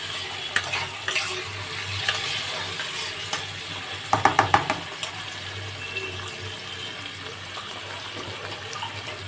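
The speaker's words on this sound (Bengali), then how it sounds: "এবার দেখো পেঁয়াজটা একটু লাল লাল হয়ে গেছে, আমি এর মধ্যে মাছের তেলটাকে দিয়ে দেবো।" Reddened onions frying in a pan as fish oil is added, a continuous close sizzle with scraping stirs and a brief burst of clattering spatula knocks in the middle, no talking.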